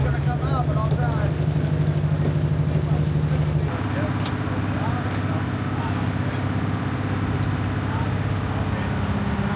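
Boat ride out to a dive wreck off Roatan: a steady, loud boat engine drone with wind buffeting the microphone, the engine pitch stepping up partway through as the boat speeds off, with people talking over it.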